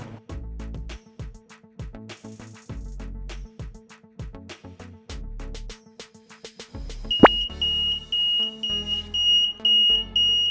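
LPG gas detector alarm triggered after gas is released into it, a loud, piercing continuous high beep that starts suddenly partway through, following a series of rhythmic clicking and tapping sounds.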